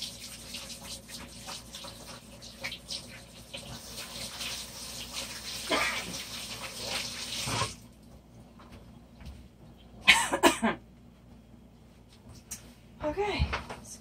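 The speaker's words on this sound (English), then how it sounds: "I'll wash my hands off real quick." Water runs from a tap as hands are washed, a steady gushing stream for several seconds, then stopping, with shorter bursts of running water later and occasional voices in between.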